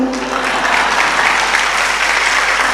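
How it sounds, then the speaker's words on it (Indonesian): A crowd at a religious lecture gives steady, dense applause throughout, loud and sustained with no clear talking over it. "tepuk tangan, nggak usah malu-malu"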